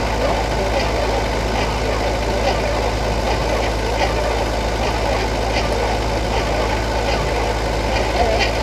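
A 1968 Buick Skylark engine, abandoned for 40 years, running at a steady rough idle with a constant low rumble, close and loud, while people talk in the background.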